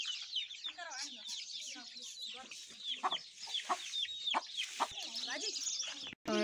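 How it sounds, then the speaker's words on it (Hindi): Desi village hens and many small chicks cluck and cheep steadily inside a coop, close and busy throughout, with people talking over the birds. "मुर्गियों का दड़बा देखिए आप, देसी मुर्गियां और इसके बच्चे, इतने सारे चूज़े छोटे छोटे"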